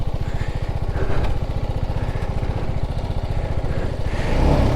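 A sports motorcycle engine runs steadily while riding a rough off-road track, a loud, close, continuous pulsing drone with slight swells in revs and no talk over it.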